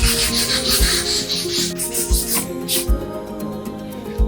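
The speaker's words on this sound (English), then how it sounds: "120 sandpaper with the trim that was painted yesterday that needs to be stained." Painted wooden trim being sanded by hand with 120-grit sandpaper, a close, loud, steady rasping rub in repeated back-and-forth strokes.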